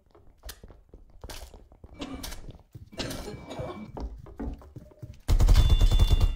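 Musket fire in a chaotic video game fight, with scattered thumps and impacts building to a loud, dense burst of gunfire at the end.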